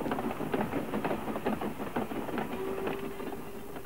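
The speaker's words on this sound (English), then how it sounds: "And here comes the goods train, just about to cross the river." A model railway goods train runs on a layout toward a river crossing, with steady rhythmic clicking of small wheels over track joints, continuous and moderately close.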